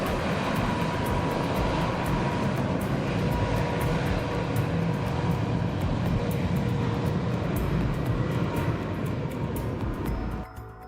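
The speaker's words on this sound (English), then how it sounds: "a massive jet powers up just meters away. The blast of its engine sends sand, dust, and people flying" A jet airliner's engine powering up on a runway at an airport, a loud, steady, broadband roar with gusting blast noise that drops off at the end.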